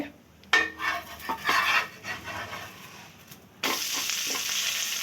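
Dosa batter of boiled rice and dosa rice frying on a hot pan with a little oil, a soft sizzle and crackle with scraping from a spatula and a louder hissing burst near the end.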